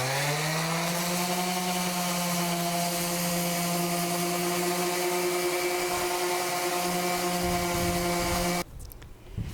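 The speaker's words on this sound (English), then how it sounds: "first I'm going to sand it up and make it look a bit better" A power sander works over an old painted wooden window frame, giving a loud, steady motor drone with grinding texture that runs unbroken for about eight and a half seconds before cutting off abruptly.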